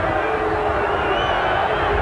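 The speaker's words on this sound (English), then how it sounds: "A lot of booing from the Hull supporters." Hull rugby league supporters boo in a steady, dense crowd roar at a Hull versus Wigan match, a continuous loud wash of voices with no break.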